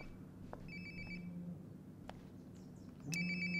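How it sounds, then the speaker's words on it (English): A cell phone rings in the video game Life is Strange: Before the Storm, with a few short electronic ringtone bursts over a steady low hum and a louder tone near the end, and no voices. "Sounds like my phone is definitely nearby."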